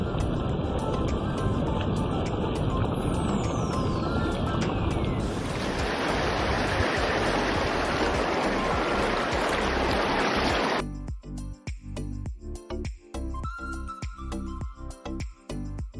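Beas River water rushing at Sandhol in Himachal, a continuous broad roar of flowing current that breaks off abruptly midway into quieter, choppy handling noise.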